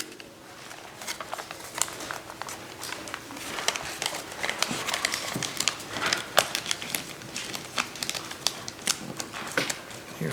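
Paper crackles and crinkles as it is creased and folded into an origami crane, a steady run of close, crisp rustles and snaps with no talking.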